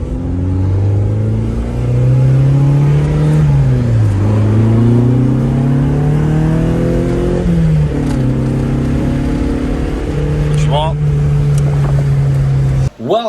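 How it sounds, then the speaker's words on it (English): A car fitted with a new Hybrid Racing shifter and rear sway bar drives steadily. Its loud, close engine note climbs and drops with gear changes and ends abruptly. "first little drive with the shifter and the rear sway bar"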